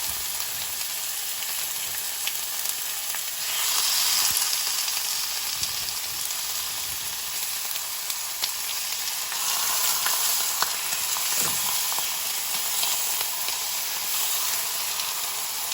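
Thin strips of sirloin for fajitas sizzle and crackle steadily in a hot pan, a dense close-up hiss with occasional pops and brief swells throughout.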